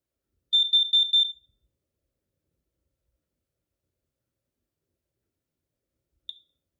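A Kidde KN-COSM-IB combination smoke and carbon monoxide alarm sounds one loud, close burst of four rapid piercing beeps, then a single short chirp after a long silence.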